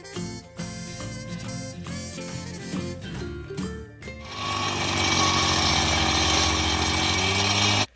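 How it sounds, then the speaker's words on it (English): A power saw cuts control joints into a fresh concrete slab at a house build. The blade whines in bursts with brief dips, then bites in at a sustained, loud grinding roar for several seconds before cutting off abruptly. "Here they are making the control cuts."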